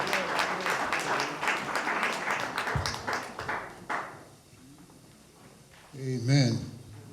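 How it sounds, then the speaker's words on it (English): Applause at a mayoral debate as the master of ceremonies heads to the podium: crowd clapping for about four seconds, fading out, then a voice speaks over a quieter room. "So please just make sure you give him a round of applause as he comes to the podium."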